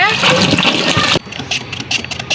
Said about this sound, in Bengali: এখন এইটা আলু ছুলে ভালো করে ধোয়া হচ্ছে।